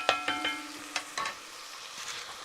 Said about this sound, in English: let's put some onions here